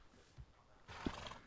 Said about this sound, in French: Et ça, c'est le cheval rare, comme un peu standard, mais très joli.